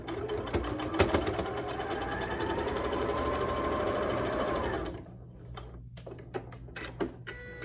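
Sewing machine stitching a quarter-inch quilt seam, a fast steady run of close, loud needle strokes for about five seconds, then stopping, followed by a few scattered clicks and handling taps.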